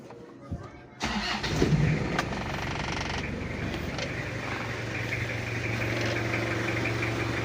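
An overheating Toyota Kijang diesel engine cranks briefly and starts, then settles into a steady rough clattering idle heard up close, with faint talk nearby.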